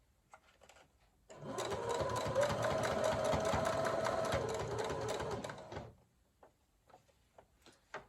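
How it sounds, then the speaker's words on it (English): A sewing machine stitches a rounded ruffle in one continuous, fairly loud run of about four and a half seconds, starting and stopping abruptly, with a few light clicks and handling sounds before and after. "Try to sew right along the edge."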